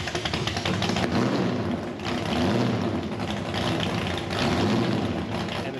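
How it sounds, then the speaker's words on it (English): A Bobby Isaac NASCAR race car engine rumbles loudly and steadily, a deep broadband roar with a slight dip near the one- and two-second marks, heard alone and close. "we hear a car start"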